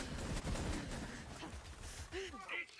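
Rapid bursts of gunfire from the spun-up Redline shotgun in the video game Borderlands 3, dense close blasts mixed with game effects and whooshing sounds.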